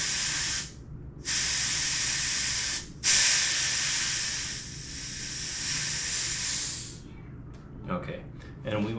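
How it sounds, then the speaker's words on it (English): Air blasts out of the bleed valve of a TOAUTO A1X-PRO PCP air compressor in loud, close hissing bursts, the first one brief, the next lasting several seconds, with a voice heard near the end. "Now you're going to come over to your bleed valve and let out the air"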